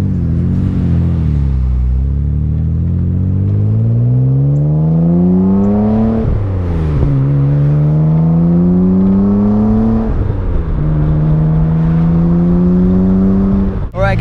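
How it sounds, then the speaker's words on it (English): A 1989 Nissan Skyline GT-R accelerates through the gears from inside the cabin, its engine note climbing steadily, dropping sharply at each of two shifts, then climbing again, loud and close with no talk. "I'm actually really impressed with how nice the car drives for a 1989 car."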